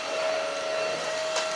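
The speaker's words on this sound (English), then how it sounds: "I want to hoover it first before I fill it with water" A vacuum cleaner runs steadily with a constant high whine and airy rushing noise, close and continuous throughout.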